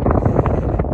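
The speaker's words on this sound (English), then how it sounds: "a little bit of wind at our backs" Wind buffets the microphone on a mountain hiking trail, a steady close rumble with gusty bursts throughout the short stretch, no voices.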